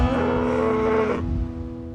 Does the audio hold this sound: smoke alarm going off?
no